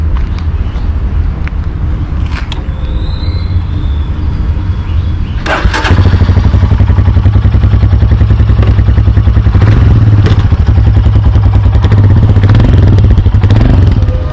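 A Royal Enfield Himalayan BS6 motorcycle thumps loud and close, its single-cylinder rumble growing heavier and steadier after a clattering shift around the midpoint, with rough mechanical rattle layered over the engine throughout.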